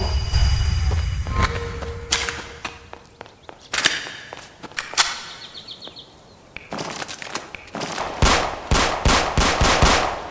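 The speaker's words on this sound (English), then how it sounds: "those are the gunshots from my useless and completely irrelevant Kokopo teammate" Roblox survival game gunfire from a teammate: sharp bursts of shots, sparse and scattered at first, then a rapid close run of loud cracks, mixed with footstep-like thuds.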